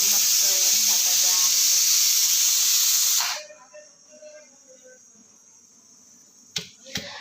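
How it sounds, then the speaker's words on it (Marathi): Rice cooking in a pot gives off a loud, steady sizzling hiss for about three seconds, then drops to a faint simmer with a couple of sharp clicks near the end. "बघा कितीचा आवाज येतोय मस्त भाताचा।"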